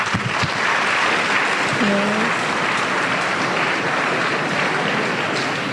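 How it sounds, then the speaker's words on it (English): Loud, sustained applause from an audience at a university career day fills the hall, broad and even throughout, with one brief spoken word near the start. "So a round of applause for God."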